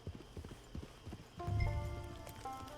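A horse's hooves clip-clop in the video game Red Dead Online, a light rhythmic patter that gives way to a louder, fuller passage with sustained tones, heard alone without voices.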